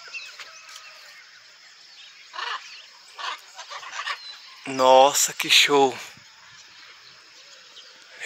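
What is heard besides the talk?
macaws calling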